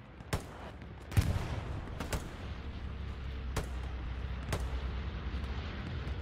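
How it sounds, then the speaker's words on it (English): Scattered gunfire in the World War II video game Hell Let Loose, with several sharp shots at irregular intervals over a low rumble of distant battle, one louder close crack standing out among fainter reports. "The fuck are they firing from?"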